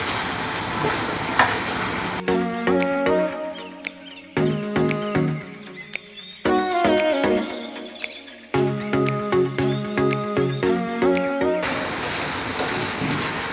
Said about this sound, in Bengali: কয়েকটা আস্ত কাঁচামরিচ নিয়েছিলাম ফ্লেভারের জন্য, এটা দিয়ে দিলাম। আবারও আমি সুন্দর মতো মিশিয়ে দিলাম।